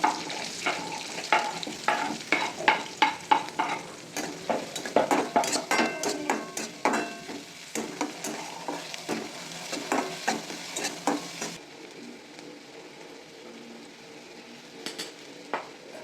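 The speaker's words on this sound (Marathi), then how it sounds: "त्याच्यानंतर मग टाकत आहे कांदा" Onion sizzling in hot oil in a pan with red chilli, stirred with a utensil that clatters in a rapid run of sharp scrapes and knocks, then settling into a quieter steady frying hiss near the end.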